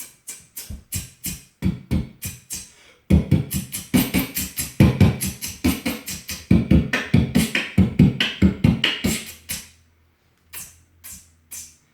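A beatboxer's voice makes a run of crisp, sharp hissing clicks in quick rhythmic bursts, imitating a hi-hat cymbal, with short pauses between patterns.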